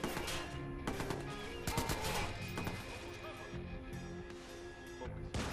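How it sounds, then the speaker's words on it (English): Gunfire in the video game Watch Dogs: Bad Blood: repeated sharp shots and bursts crack over a busy, dense game soundscape, fairly close and loud. "Shot him in his leg to death."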